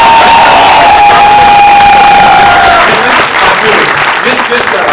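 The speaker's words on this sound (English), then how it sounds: "Give yourselves a big round of applause" Loud, dense applause from a large crowd fills the room, with cheering mixed in and a faint steady whistle-like tone early on.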